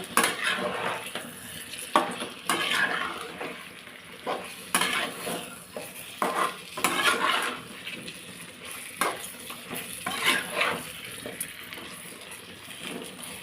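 Chicken gravy with fenugreek leaves and curd frying in a pan, a soft sizzle broken by repeated scraping stirs and clinks of a ladle against the metal, close and moderately quiet throughout.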